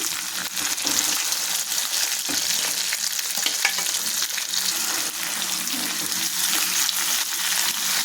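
Ground mint chutney hits hot oil with a couple of curry leaves, producing a loud, dense, continuous sizzle and crackle that holds steady the whole time, with no voices.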